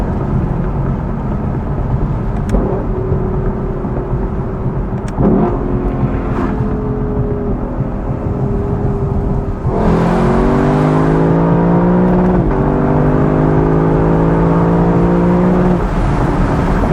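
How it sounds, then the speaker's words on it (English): A 2024 Lexus LC 500 convertible's V8 engine roars continuously under wind noise, its pitch climbing through gears and bumping repeatedly against the rev limiter with fast upshifts. "Every time you hear that drrrr noise, I'm hitting the rev limiter."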